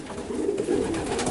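Racing pigeons at a loft give a brief, low, throaty coo close by, heard alone without talking.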